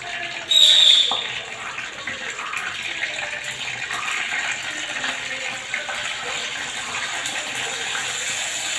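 Mustard seeds hitting hot oil burst into a loud sizzle, then settle into a steady crackling fizz that continues throughout.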